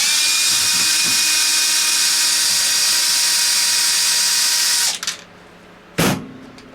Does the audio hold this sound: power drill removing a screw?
yes